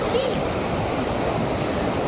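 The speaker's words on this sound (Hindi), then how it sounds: "लग गई थी शोनी अपनी अम्मा के ऊपर पानी डालने।" Water pours steadily over a woman during a Chandan Shashthi fast ritual, a continuous close rushing splash that holds at an even loudness throughout.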